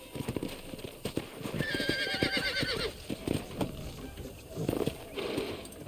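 Horse in Red Dead Redemption, hooves clopping steadily on the ground with a clear neigh in the middle, fairly close, with faint talk underneath.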